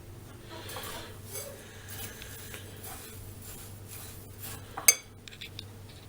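A spoon stirs pudding mixture in a pot or bowl, giving soft, quiet scraping and rubbing. One sharp clink of utensil on dish stands out near the end over a low background hum.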